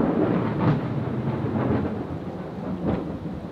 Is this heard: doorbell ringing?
no